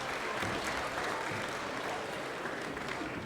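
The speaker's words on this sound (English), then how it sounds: "a round of applause for Katy Reed" Crowd applause at a Golden Shears blade shearing competition for shearer Katy Reed finishing her sheep, a dense, steady roar of clapping filling the whole stretch with no talk.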